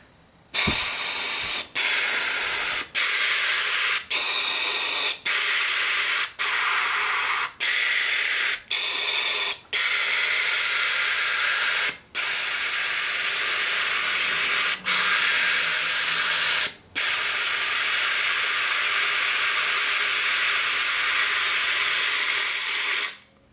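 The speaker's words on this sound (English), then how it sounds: "I'm going to operate the bellows." Loud bursts of rushing air from bellows, a series of short regular blasts followed by longer sustained gusts, each separated by brief pauses.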